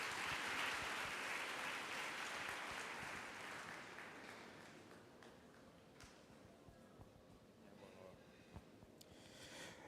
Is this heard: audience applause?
yes